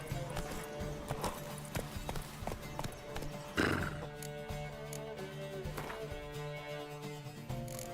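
Roach the horse's hooves clip-clop steadily in The Witcher 3 game, a rhythmic trot with an occasional whinny over a low in-game background.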